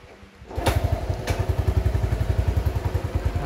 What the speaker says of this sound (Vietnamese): Rồi, mình sẽ nổ máy nha. Nổ máy không cần lên ga nè các bạn.